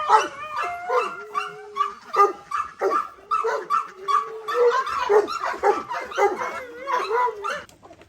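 Dogs at feeding time bark and yelp in quick, uneven bursts, mixed with high whining tones, close by and fairly loud, with no talking.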